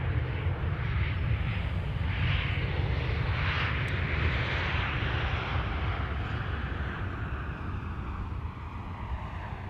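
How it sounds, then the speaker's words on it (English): An airplane landing at Amsterdam Schiphol Airport gives a steady, broad engine roar with rumbling low end, heard at a distance through wind noise and holding at an even level throughout. "that's the airplane preceding the A380"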